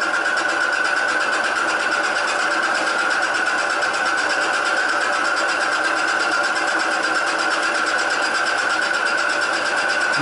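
A saw cuts through a piece of cast iron rail, a loud, continuous rasping whine holding a steady pitch without pause.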